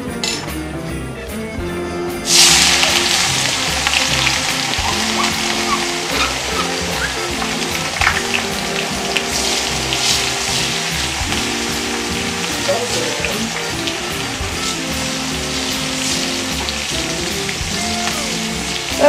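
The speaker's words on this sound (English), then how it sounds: "I'm just frying the onion." Oil sizzles and crackles steadily in a pan as onion fries after a sudden start, a constant hiss with small pops throughout.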